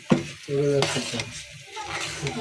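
Oil sizzles and crackles in a pan as noodles cook, with steady frying hiss and occasional stirring scrapes of a utensil against the pan, close and continuous.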